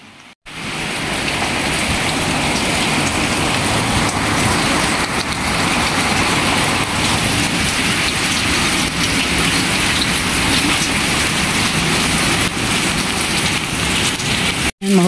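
Heavy rain pours down in a dense, steady roar that stays loud and unbroken for the whole stretch, with no voices over it. The downpour stops abruptly near the end.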